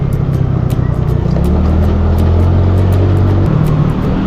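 Road traffic builds up near the SB Road exit, a loud, close rumble of idling and creeping vehicle engines with a steady low hum and scattered mechanical clicks, no talking.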